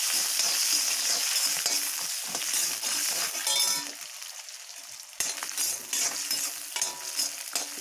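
Garlic sautéing in a pan for a chutney, a steady crackling sizzle with clinks of a spoon stirring against the pan and a brief quieter dip midway.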